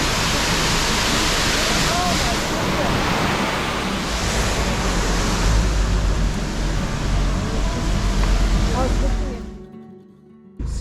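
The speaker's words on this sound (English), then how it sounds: "on the way we come across a few waterfalls" A waterfall beside a steep, winding mountain road up to Dorrigo in northern New South Wales, a dense continuous roar of falling water that holds steady before dropping away abruptly near the end.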